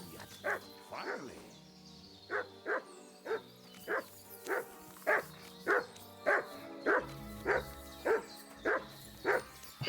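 A dog barking in the video game Kingdom Come Deliverance 2, a steady run of about a dozen evenly spaced barks at moderate distance over quiet ambient game sound.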